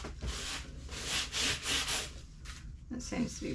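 A gloved hand rubs and spreads thick texture paste across an 18 by 24 inch canvas, giving close, continuous scraping and smearing strokes in repeated sweeps with brief pauses.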